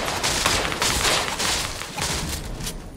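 Gunfire in a Fortnite match, a dense stream of rapid shots and bursts running steadily throughout at fairly loud volume, with no talking.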